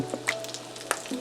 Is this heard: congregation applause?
no